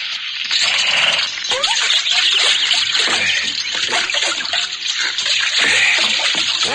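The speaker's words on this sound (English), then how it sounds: "We'll water them after we fill the canteen." Water trickles and splashes steadily at a desert water hole as a canteen is filled, a continuous close wet rushing with small drips, fairly loud throughout.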